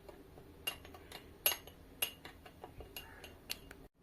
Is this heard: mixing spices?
yes